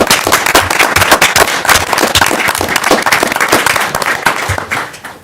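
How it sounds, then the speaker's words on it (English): An audience at a mayor and commission regular session gives Nick a round of applause: loud, close, crackling clapping from many hands that carries on steadily and tapers slightly at the end. "We want to give you a round of applause."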